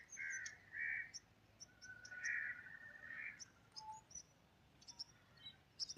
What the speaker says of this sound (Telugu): చిన్న చిన్న పక్షులు